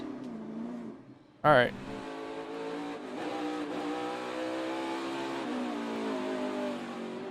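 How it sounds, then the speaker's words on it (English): A NASCAR race car revs loudly while losing rear grip and spinning its rear tires. A sharp burst is followed by a sustained, rising engine roar with strong harmonics, and a commentator's voice is heard over it. "he jumped in the gas and started losing the rear grip and spinning the rear tires"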